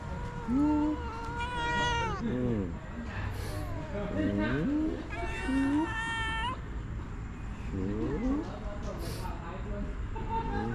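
A cat meows repeatedly, with long, wavering cries close by, some rising into whiny caterwauls, over a steady background hum.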